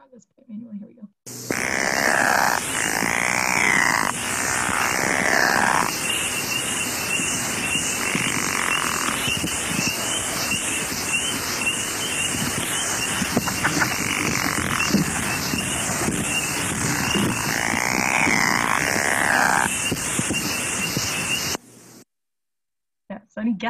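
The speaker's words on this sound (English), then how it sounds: "I can play the pickerel frog this way." A low, rattling croak-like pickerel frog call repeats in bursts, played back over a steady high chorus of spring peeper calls.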